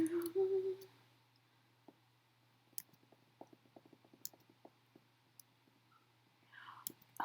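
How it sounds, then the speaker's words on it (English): A person sucks air through a tiny gap in their teeth, giving a short squeaky, whistle-like tone at the start and a breathy squeak again at the end. Soft scattered clicks fill the quiet in between. "it's me pulling air through a tiny gap in my teeth"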